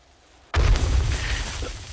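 A grenade blast in the survival video game 7 Days To Die: a sudden heavy boom after half a second of quiet, its deep rumble ringing out and slowly fading, alone.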